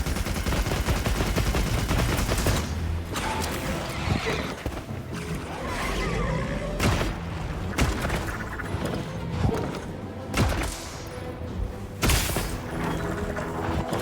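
Rapid gunfire from a machine gun in the Monster Hunter Wilds game rattles in loud bursts. The bursts are layered over a dense mix of game sound with horse whinnies, and no one talks.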